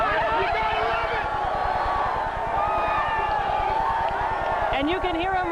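Baseball fans cheer and celebrate the Cardinals winning their way to the World Series in October 1987. A dense, steady roar of crowd voices and shouting carries on without a break, with some louder whoops near the end.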